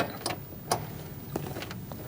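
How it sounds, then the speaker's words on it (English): A low beam bulb on a 2016-2019 Chevrolet Cruze twisted out of its headlamp socket: a few faint, sharp plastic clicks and scrapes, spaced irregularly, close up against a quiet background. "Reach in, turn it to the left, and undo the bulb out of the socket."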